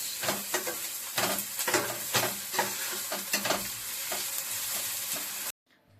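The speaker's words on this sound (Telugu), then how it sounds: "ఒక టేబుల్ స్పూన్ అల్లం వెల్లుల్లి పేస్ట్ వేసి పచ్చివాసన పోయే వరకు బాగా ఫ్రై చేసుకోవాలి" Ginger garlic paste fries with onions in a pan, crackling in a close hiss broken by rhythmic spatula scrapes and stirs. The sizzle cuts off abruptly near the end.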